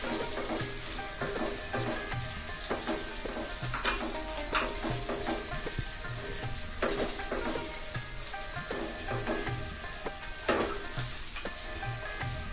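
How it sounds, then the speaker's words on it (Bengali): Ginger garlic paste and onions for vegetable noodles fry in a pan while being stirred, giving a constant sizzle broken by rhythmic scraping strokes of a utensil against the pan, with no voices. "আদা রসুন বাটা। এটাকে ভালোভাবে আবার একটু মিক্স করে নিচ্ছি।"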